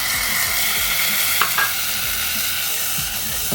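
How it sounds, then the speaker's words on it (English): Seasoned rice being stirred in a hot pot, an even crackling sizzle with a couple of sharper scrapes of the spoon midway, close and steady with no one speaking. "Go ahead and give it a nice little stir."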